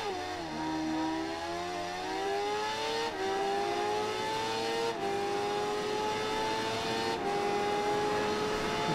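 A BMW S1000RR superbike engine screams in a racing video game, revving high and steady with brief dips at each gear change, loud and continuous throughout.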